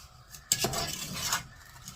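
Spoon scraping and clinking inside a pot of thick strawberry rhubarb jam, a couple of close metallic stirring scrapes against the pot with no talk.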